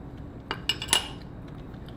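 A knife cuts into a dense, fudgy brownie, giving a few soft clinks and scrapes close by, with three brief taps spaced about a fifth of a second apart and no talk.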